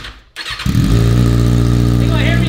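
A brand new Kawasaki ZX6R motorcycle with its exhaust muffler removed starts up after a brief quiet moment, then idles loud and raw with a strong steady rumble, with a voice heard faintly at the start.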